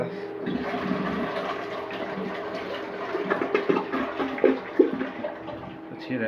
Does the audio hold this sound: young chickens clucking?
no